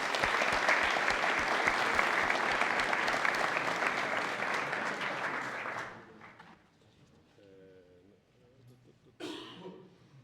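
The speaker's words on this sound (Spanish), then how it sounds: "me gustaría también que le dierais otro aplauso." Audience applause at a tech conference on Kubernetes and AI, steady and fairly loud for about six seconds before fading into scattered claps, coughs and a throat clearing, with a brief burst of noise near the end.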